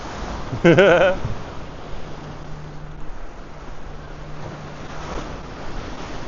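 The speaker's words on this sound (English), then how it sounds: "Look at those waves." Ocean waves wash against the Vancouver Seawall, a steady roar of surf and wind rumble close by, with a brief loud voice early on.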